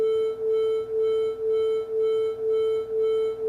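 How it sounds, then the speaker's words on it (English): Two nearly identical pure tones sound together, producing a steady loud hum that swells and dips in regular beats about twice per second, with no other sounds. "you can hear beats"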